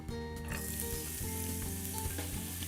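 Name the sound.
sauteing grated carrot in olive oil in a pan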